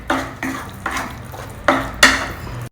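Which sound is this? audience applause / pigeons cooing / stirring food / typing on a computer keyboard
stirring food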